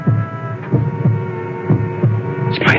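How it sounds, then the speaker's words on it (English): Heartbeat sound effect from a radio drama: slow, regular low thumps, about five beats over a steady background hum, with a brighter noise burst near the end. "It's my heart beating."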